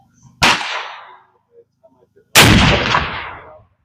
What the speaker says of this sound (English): Pulled the trigger.